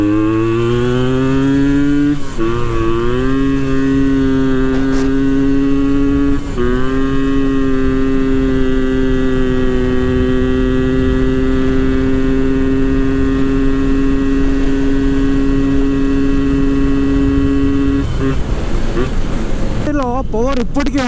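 A Yamaha RX135 two-stroke motorcycle idles and revs steadily, its harmonic engine tone rising briefly at throttle blips before settling into a sustained drone, close and loud, ending with a rough burst of revving.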